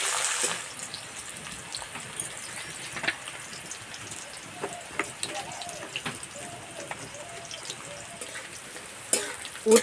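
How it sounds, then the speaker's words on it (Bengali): Bitter gourd frying in oil for shukto, a steady soft sizzle with small crackles and occasional stirring clicks, moderately faint and close, no voices. "এবার উচ্ছে ভেজে নেব।"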